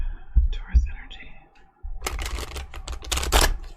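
Tarot cards are shuffled by hand, with a few soft thumps and quieter handling at first, then a dense, crisp run of riffling and slapping bursts through the second half, close and fairly loud.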